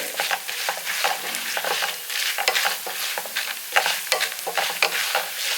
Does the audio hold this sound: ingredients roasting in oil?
yes